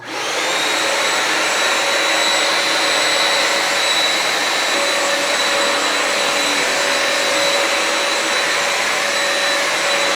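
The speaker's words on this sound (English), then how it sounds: "once you're done steaming the floor is turn on the vacuum mode" A Bissell PowerFresh Vac & Steam mop in vacuum mode runs steadily throughout, a loud continuous whine with a high-pitched hum, close and unbroken, no voices.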